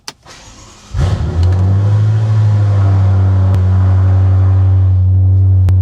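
A BMW M5 F10 Stage 2 fires up after a brief click, bursting into a loud, deep rumble that settles into a strong, steady idle, close up and with no talk.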